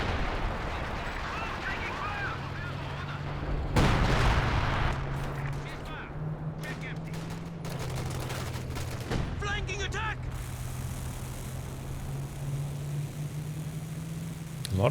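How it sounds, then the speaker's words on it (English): Artillery barrages pound emplacements in Company of Heroes 2, a 2v2 match: repeated heavy booms and rumbling blasts with crackling debris, loud and sustained over a low engine-like drone, with a voice commentating throughout. "A lot of barrages onto these emplacements, but not quite getting the kills he's hoping for"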